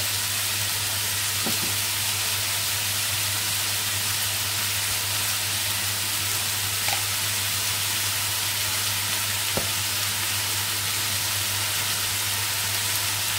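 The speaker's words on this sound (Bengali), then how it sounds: "এখন আলু ভাজিটা একটু আমি নরম নরম করে করছি" Potato bhaji frying in a pan, a steady even sizzle with a constant hum underneath and only an occasional faint clink, with no talking.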